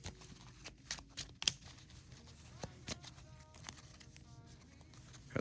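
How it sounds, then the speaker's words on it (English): A deck of trading cards from a Dark Magician game being shuffled by hand, heard as close, irregular riffles and sharp card snaps spread across a few seconds, without talk. "Shuffle."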